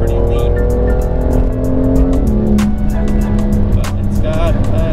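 A loud BMW M2 engine with a raspy aftermarket exhaust drones and shifts pitch while driving, with a voice faintly underneath.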